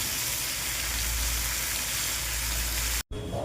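Pumpkin pieces stir-frying in a pan, a dense, even sizzle heard up close for about three seconds before a brief cut to a quieter, softer hiss.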